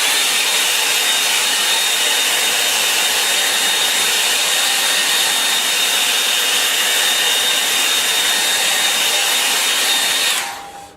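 A hair dryer blows steadily over a watercolour painting, a loud continuous whoosh with a thin whine that runs close and unbroken for about ten seconds before cutting off abruptly.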